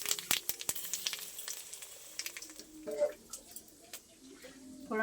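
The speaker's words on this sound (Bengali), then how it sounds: "এবার তেলের মধ্যে দিয়ে দেবো কালো জিরে ফোড়ন, শুকনো লঙ্কা নিয়েছি দুটো, ফাটিয়ে দিয়ে দেবো।" Black cumin seeds and two dried red chillies crackling in hot oil for tempering, with sharp pops and spitting bursts up front, then a softer steady sizzle with scattered ticks; no talk.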